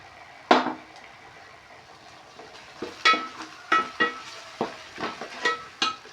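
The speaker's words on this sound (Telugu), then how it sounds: "ఇదంతా ఆయిల్లో ఫ్రై కావాలి" Tomato and cashew-almond paste frying in oil for a mushroom masala curry, with a low sizzle under several sharp spoon scrapes and clanks against the pan, spaced irregularly.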